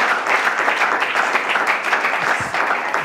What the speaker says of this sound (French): Rolly Ransard, Samanzambi, que je vous prie d'applaudir également.